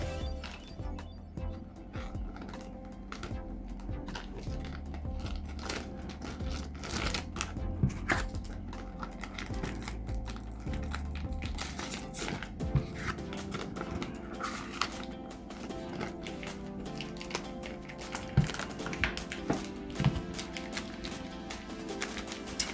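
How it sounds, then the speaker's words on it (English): Sports cards slid back into a plastic bag, continuous crinkling plastic rustle with small taps and flicks over a low steady background hum, close and moderately quiet, no voices. "let me go ahead and put these cards back into this bag"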